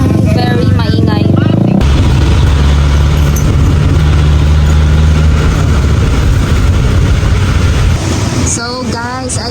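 A tricycle engine idles on a rainy street, a loud, close low rumble with steady mechanical vibration under rain noise, while a voice talks at the start and end.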